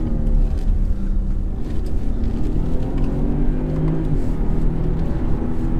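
A 2018 BMW 540i xDrive Touring estate accelerating hard on an open road, steady loud engine drone with rising harmonic tones and constant road and wind roar heard from inside the cabin.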